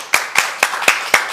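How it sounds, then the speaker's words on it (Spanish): Five sharp, evenly spaced claps ring out in a studio setting, crisp and close, each a single slap with short gaps between, sounding more like one person's hands than a full crowd. "vamos a recibir a Lucas primero con un aplauso"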